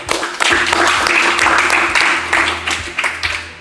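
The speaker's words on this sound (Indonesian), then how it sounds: "Sekali lagi tepuk tangan untuk kita semua." Audience applause at the close of a training session, a dense, even wash of clapping that runs through the short stretch with small swells.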